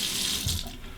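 Water runs steadily from a tap to rinse a safety razor, a close, continuous splashing rush.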